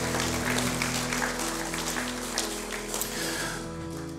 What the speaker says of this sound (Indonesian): Mari kita beri tepuk tangan yang meriah bagi Tuhan